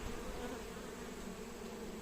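A honeybee drone buzzes steadily at a beehive, a continuous close, low droning hum with the faint hive drone underneath and no pauses.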